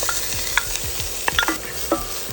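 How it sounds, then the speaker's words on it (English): Diced onion, jalapeno and garlic sauté in a pan, a soft steady sizzle broken by a few sharp clinks and scrapes of a utensil stirring, close and without speech. "I'm going to saute that for about 5 minutes."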